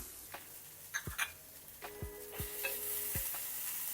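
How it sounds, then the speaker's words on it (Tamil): Grated coconut, curry leaves and roasted lentils are sautéed in a pan for bitter gourd pitlai, with a few sharp scraping stirs of a spoon over a soft, steady sizzle. "அதோட கூட எடுத்து வச்ச தேங்காய் துருவலை அதோடய சேர்த்து நல்லா வதக்கிக்கலாம்."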